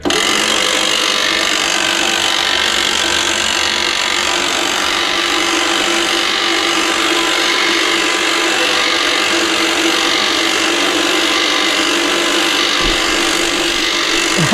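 A Badlands 2000lb portable winch slowly pulling a load, giving a loud, continuous grinding motor whine that holds steady throughout.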